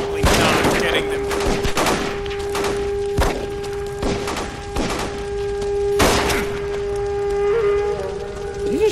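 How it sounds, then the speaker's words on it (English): Gunfire in the detective game L.A. Noire, a series of loud close shots in an irregular volley with thuds between, over a steady tonal background hum and some voices. "Did he just shoot?"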